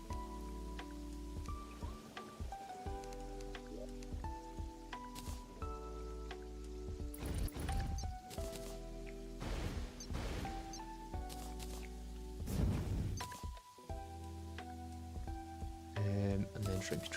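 Rain patters steadily in the Terraria Calamity mod, a soft continuous hiss layered under game music tones and occasional clicks.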